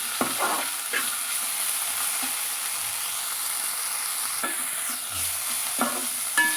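Coriander leaves roast in a hot pan, with intermittent stirring scrapes and soft clicks over a steady faint sizzle; the sound is close and moderately quiet, and no one speaks.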